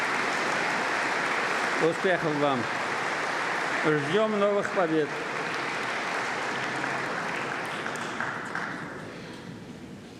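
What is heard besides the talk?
audience applause for athletes at state council address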